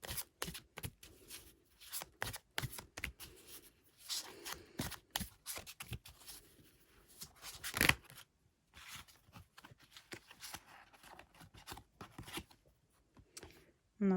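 Tarot cards are shuffled and drawn in a quiet room, making a long run of crisp rustles, flicks and snapping riffles at an uneven pace, with one sharper slap midway.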